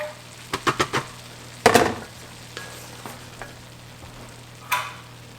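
A spoon stirs cornbread sausage dressing with cranberries in a Dutch oven, making a few quick close scraping strokes, then a louder burst of mixing and softer scrapes over a faint steady hum.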